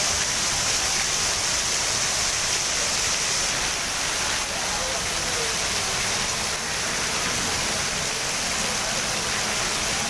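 Steady, dense rain hiss fills the whole stretch, a constant broadband wash with no pauses, fairly close and loud.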